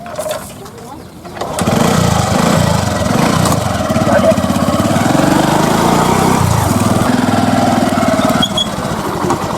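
A motorbike engine starts and settles into a loud, steady running rumble close by, with people talking in an urgent exchange over it.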